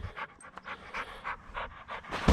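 A dog pants rapidly and rhythmically close by, with short breathy bursts repeating steadily and a louder puff at the end.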